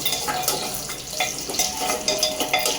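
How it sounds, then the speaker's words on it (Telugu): Raisins frying in hot ghee for rava kesari give a close, steady sizzle and crackle, broken by small popping bursts every fraction of a second. No one speaks. "ఇప్పుడు ఫస్ట్ కిస్మిస్ వేసుకుని వేయించేసుకుంటున్నాను"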